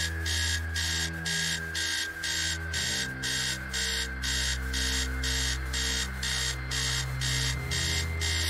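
An alarm clock in the video game Stories Untold rings loudly and without a break in a fast, steady pulsing beep, with a low drone underneath it and no voices.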